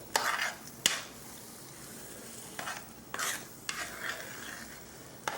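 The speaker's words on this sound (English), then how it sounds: "we stir it all together" A spoon stirs a Cajun roux in a pot: quiet background sizzle broken by several sharp, close scrapes and clinks of the utensil at irregular intervals.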